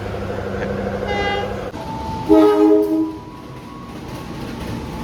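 A train horn blares over the rumble of a local train arriving at a station in Central Java, with a brief higher toot earlier and steady rail noise throughout.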